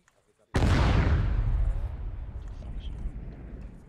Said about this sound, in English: That was the explosion we just set.